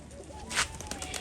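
Black tumbler pigeon taking off from a rooftop, its wings giving one sharp whooshing clap near the middle, followed by lighter flutters against a faint outdoor background.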